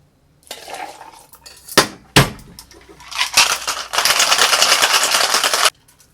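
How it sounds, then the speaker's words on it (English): Ice cubes clatter into a glass for a rum cocktail, a few sharp clinks followed by a longer, steady rattling pour of ice, close and fairly loud with no talking. "Let's get some ice."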